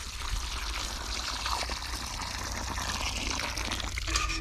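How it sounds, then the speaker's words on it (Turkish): Water pours onto the soil at the base of a young two-year-old olive sapling, a close, continuous splashing trickle with a low rumbling undertone lasting a few seconds. "Bunun dibine de su dökeyim."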